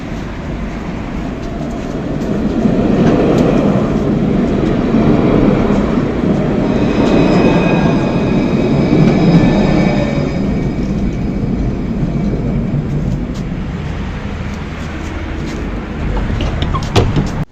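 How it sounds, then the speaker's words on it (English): An Alstom Citydis tram rolls through Tunisia with a steady, loud low rumble of wheels and running gear, joined midway by faint high whining tones, carrying on for many seconds. "And now let's take a look at the newer Citydis trams."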